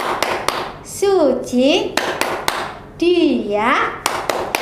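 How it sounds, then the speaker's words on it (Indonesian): Children perform the Marsudirini rhythmic hand clap, with sharp, close claps in patterned bursts between chanted words sung aloud. "Yuk, tepuk Marsudirini."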